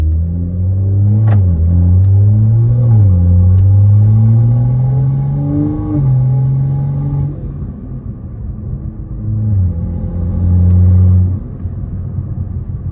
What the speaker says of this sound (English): I can definitely hear the turbo